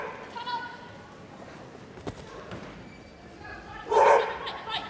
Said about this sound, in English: He's going to bark all the way around